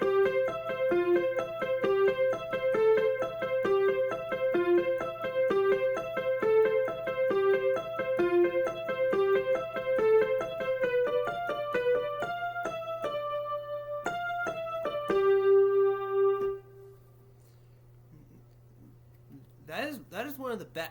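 Roland GO:KEYS 3 keyboard playing the piano part of a song, a steady run of close, clear repeated notes shifting through chords, then a sustained final chord that fades before a brief noise at the end.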